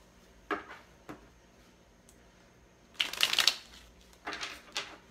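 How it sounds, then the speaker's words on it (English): Tarot cards are shuffled and tossed down onto a table in a few short, crisp bursts of riffling and slapping, fairly close and quiet, with brief pauses between the bursts. "I'm going to throw these cards down."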